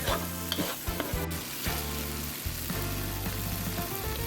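Wide rice noodles sizzle and crackle in a hot wok as they are stirred and tossed for pad see ew, with scraping movements over a low steady hum.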